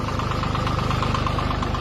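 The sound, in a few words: farm tractor engine running while ploughing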